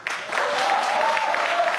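A debate audience applauds in a short burst of dense, steady clapping that fills the hall for under two seconds, with a faint voice mixed in, at a Rio de Janeiro mayoral runoff debate broadcast on television.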